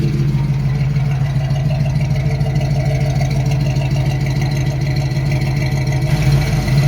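A 1980 Oldsmobile Cutlass 442 idles after a cold start with the choke off, giving a steady, even low rumble close up with no talk over it.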